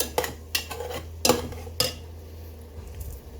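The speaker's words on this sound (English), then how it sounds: "Stir it up because again we got 2 pounds of meat here." Two pounds of unseasoned ground meat being stirred in a pot for pasta bolognese, several sharp metallic clanks of a utensil against the pot at uneven intervals over a steady low hum, close and no one speaking.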